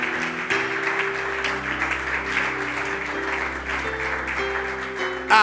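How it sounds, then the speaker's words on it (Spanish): A church congregation applauds the Lord after a sermon, brisk clapping running under sustained musical tones from a keyboard or organ, ending with a short louder burst. "¿Cuántos le dan un aplauso al Señor por su bendita y poderosa palabra?"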